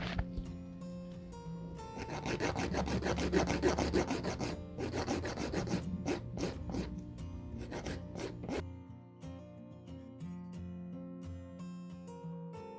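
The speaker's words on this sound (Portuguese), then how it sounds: "Nós vamos começar lixando a ponta. Vou usar a minha lixa manual." Close-up rasping of a hand file scraping back and forth across the tip of a polygel nail in quick strokes, over soft background music, then fading off.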